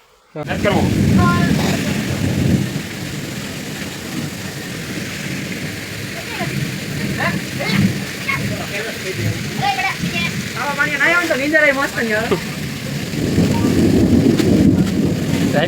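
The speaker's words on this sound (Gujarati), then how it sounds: "હવા જેવું થઈ ગયું વરસાદ ધોધમાર આવ્યો." Heavy pouring rain with rolling thunder, a loud continuous downpour throughout, with voices talking over it at times.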